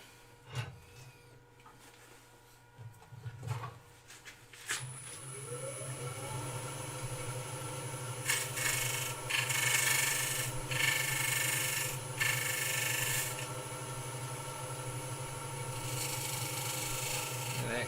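A wooden vase is being hollowed on a lathe, with a steady machine hum and a tool rasping and scraping against the spinning wood in uneven bursts that grow louder partway through.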